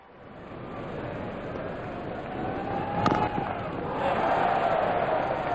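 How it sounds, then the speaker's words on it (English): A cricket crowd roars and cheers through a stadium at an England versus Sri Lanka Test match, a broad, steady wash of noise that swells louder toward the end with no speech. "Crowd going mad here."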